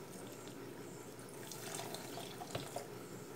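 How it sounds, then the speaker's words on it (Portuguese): Milk is poured into a blender jar in a kitchen, a faint continuous liquid stream with small splashes, quiet and close with no talking. "Vou adicionar o leite aqui."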